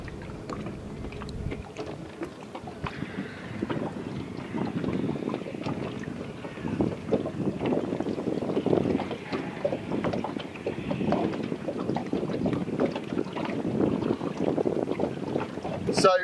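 Ribeye A683 boat with an outboard engine running on open water, carrying a full fuel tank and suspension seats; a steady, loud engine and hull rumble with wind buffeting the microphone throughout.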